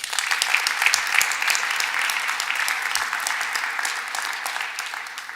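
Audience at the City of Flint State of the City Address applauding police officers; thick, continuous clapping from a large crowd holds steady, then slowly tapers toward the end.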